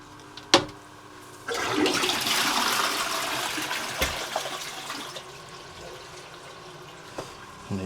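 A toilet flushes after a quick leak repair, with a sharp clunk of the handle, then a loud close rush of water that tapers into a quieter refilling hiss.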